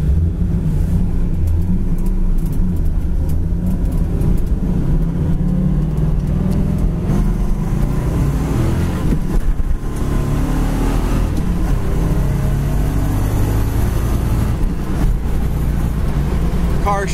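A 1970 Chevrolet Camaro engine drones loudly and continuously from inside the car at around 70 mph, with a brief dip as it shifts gears, then settles back into a steady road roar.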